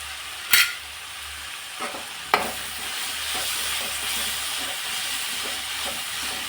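Curry leaves frying in a pan for tomato gojju, a steady broadband sizzle with a few sharp pops and crackles near the start, continuing alone without talk.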